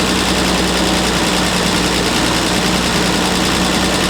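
A car engine with Zenith-Stromberg carburettors, just re-tuned after a fuel leak fix, idles close by, a loud, steady low rumble with a slightly fast, even running note throughout.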